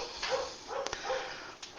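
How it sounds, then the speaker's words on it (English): Faint, distant dog barks come in a short repeated series against a steady background hiss. "There's someone in my driveway. Sorry about the barking."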